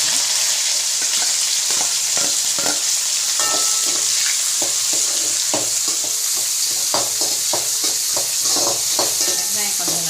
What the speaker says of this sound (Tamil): இப்போ வந்து நம்ம வெங்காயம் போட்டுக்கலாம்